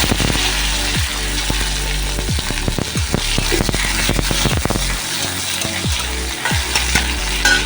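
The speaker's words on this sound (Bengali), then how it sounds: "এখন এর মধ্যে জিরে আর শুকনো লঙ্কা ফোড়ন দিলাম, আর দেবো পেঁয়াজ কুচি আর টমেটো কুচি।" Cumin, dried chillies, onion and tomato frying in hot mustard oil, a loud crackling sizzle full of sharp pops and spatters, with scraping from stirring.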